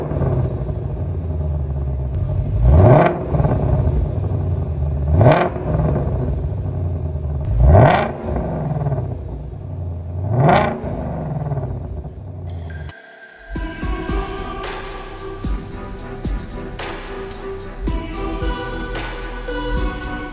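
A Ford Mustang GT500 fitted with a new X-pipe exhaust revs four times in quick, evenly spaced throttle blips, each a rising roar over the idle, followed by a continuous louder, rougher engine rumble.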